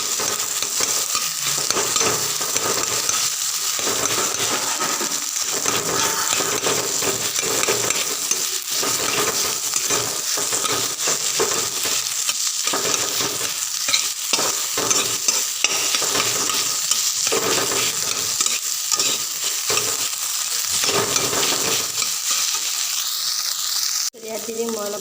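Eggs fry with okra in oil in a wok, a steady crackling sizzle running throughout, broken by frequent scraping and stirring strokes, loud and close.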